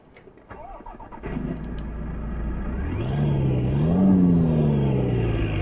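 A Ford Cargo 1838 truck engine starts up in a snowy driving game, cranking briefly before settling into a steady diesel idle that swells as the revs rise and ease, close and fairly loud with no voices.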